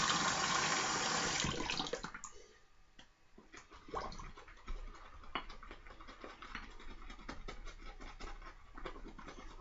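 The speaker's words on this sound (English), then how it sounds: "Let me add a little bit of water to it." Water is poured into a slick soap mixture during soap making: a loud, rushing pour for about two seconds, followed by quieter clicks and small knocking sounds.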